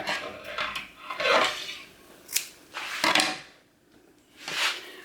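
Scissors snip away excess deco mesh on a ruffled fall wreath, giving a few crisp, close cuts and crinkly rustles in separate bursts with short pauses between.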